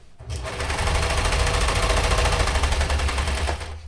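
A serger sewing machine runs a continuous chain stitch across fabric cuffs, making a loud, rapid, steady mechanical rattle that starts abruptly and holds for several seconds.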